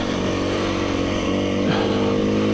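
A two-stroke motorcycle rides along with a steady, close engine drone and buzzing harmonics, holding a constant pitch, then a brief rising whine near the end; no voice is heard.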